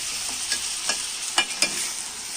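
Fish frying in masala with kokum and curry leaves, a steady loud sizzle with a few sharp stirring scrapes and pops, close up and without voices.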